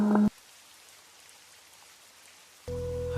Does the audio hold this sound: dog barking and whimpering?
no